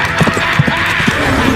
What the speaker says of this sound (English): As the horse and rider galloped from the moonlight to the shadows